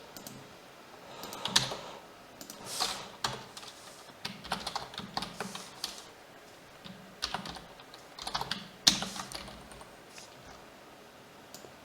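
Computer keyboard typing while entering HTML text: irregular runs of close, crisp keystrokes with short pauses between bursts, heard alone without talk.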